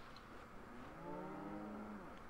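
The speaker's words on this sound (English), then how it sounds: "Heard something. I thought it was a zombie, the cow." A single drawn-out cow moo sounds in Resident Evil 4, low and mournful over a quiet ambient background, fading after about a second.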